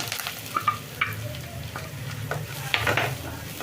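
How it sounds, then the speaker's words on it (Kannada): Ground spice masala, mixed with a dried red chilli and curry leaves, is stirred in a hot pan for a wedding-style ivy gourd palya, giving a soft steady sizzle with scraping spoon strokes at close range and no talking. "ಅದನ್ನು ಮಿಕ್ಸ್ ಮಾಡ್ಕೊಳ್ತಾ ಇದ್ದೀನಿ ಮಸಾಲೆನ"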